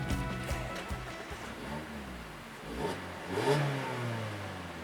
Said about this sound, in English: It sounds like any other four-cylinder.